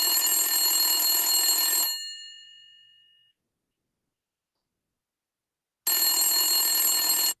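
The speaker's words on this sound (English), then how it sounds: "You receive a phone call." An electronic telephone ring sounds loud and bright for about two seconds, decays away into silence, then a second burst of ringing begins after a long pause.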